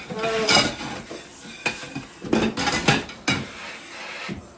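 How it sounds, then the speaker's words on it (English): Dishes are handled in a kitchen sink during a late-night cleanup, with repeated clattering of plates, pots and cutlery in irregular bursts close by, some sharp knocks standing out above a low running background. "I'm going to rinse these dishes"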